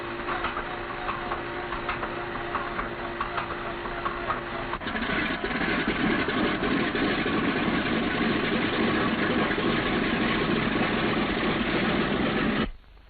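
A B-17 bomber's radial engine fires and settles into a steady idle, a loud continuous droning rumble that grows fuller and rougher partway through before cutting off abruptly near the end.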